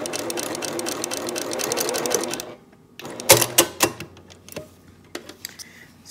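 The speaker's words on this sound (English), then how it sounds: "And now when I stitch, as long as I'm guiding this corner, I know it's going to be a straight line." A sewing machine stitches quilt pieces in a fast, steady run of needle clatter, then falls quiet and gives a few louder separate clunks and clicks as the fabric is handled.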